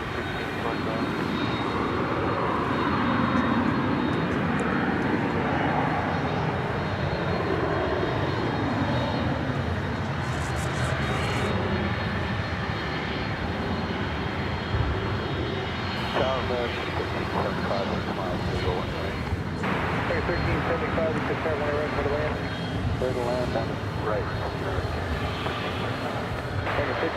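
Airliner taking off from runway 18 Left at Dallas/Fort Worth airport, its broad engine roar steady and loud throughout, with radio chatter and voices faintly underneath.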